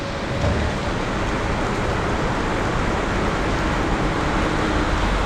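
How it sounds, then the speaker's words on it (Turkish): Steady heavy rain pours down without a break, a dense hiss with low rumbling underneath, loud and close throughout. "Çok güzel yağmur yağıyor."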